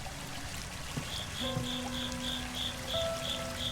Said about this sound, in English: I hear the sound of a babbling brook.